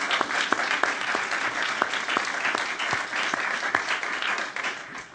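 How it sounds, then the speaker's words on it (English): An audience at a panel discussion on policing in Iraq gives steady, moderately loud applause. Individual claps stand out within the sustained sound. "I'd like to invite a round of applause."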